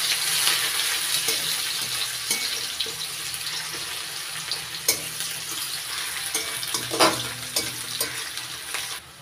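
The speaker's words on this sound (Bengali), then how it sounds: "পেঁয়াজটা হালকা লাল লাল করে ভেজে নিয়েছি।" Chopped onions sizzle steadily in a pan of hot oil with cumin for a Bengali poonti fish chachadi, with occasional scraping stirs and clinks over the constant frying hiss, close up and fairly soft.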